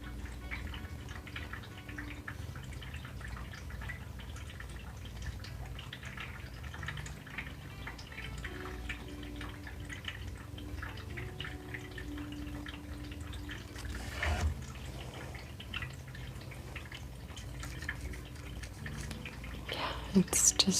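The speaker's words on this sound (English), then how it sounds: "fountain for the animals" Water trickles and drips from an animal drinking fountain in soft, irregular drops under quiet whispered talk, with a few louder knocks near the end.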